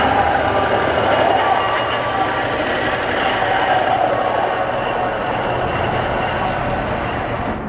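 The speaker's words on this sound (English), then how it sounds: "a track inspector rolls by on Main 2 as he makes his way west past the depot" A Union Pacific track inspector vehicle rolls west along the main line past a depot, a steady, loud rumble of wheels on rails that holds evenly throughout and eases slightly at the end.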